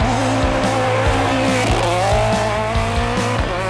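A rally car at the 2021 Rallye Baie des Chaleurs roars past at speed, a loud, close engine with a rhythmic pulsing note and squealing tires.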